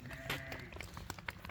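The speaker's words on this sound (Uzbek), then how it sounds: "Qo'ylarni qaranglar, mashalloh." Sheep newly arrived at a livestock sale bleat in short, close calls over a busy farmyard background, a few cries rising above the general animal murmur.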